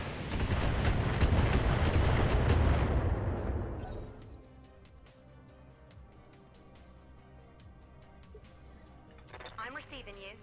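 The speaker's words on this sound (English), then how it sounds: "So, missiles it is." Missile volleys from a mech in the BattleTech video game, a dense loud barrage of launches and blasts for about four seconds that fades into lower rumbling and scattered pops, with a brief flurry near the end.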